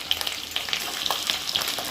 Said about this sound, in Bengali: এই রকম পেঁয়াজটা ভাজা ভাজা হলে আমি এই মুরগির গুর্দাগুলো দিয়ে দেবো